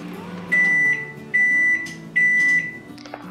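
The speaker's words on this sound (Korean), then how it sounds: "얘를 살짝 열어서 전자레인지에 돌리도록 할게요." A microwave oven heats a tray of instant brown rice, giving three evenly spaced loud beeps close by, each about half a second long, over a low hum.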